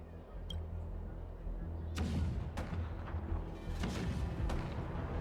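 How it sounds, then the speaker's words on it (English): In the video game Honkai: Star Rail, deep booming cannon blasts sound several times over a low rumbling battle backdrop, the reports fairly close and irregularly spaced. "Do you hear that? The rumble of the cannons."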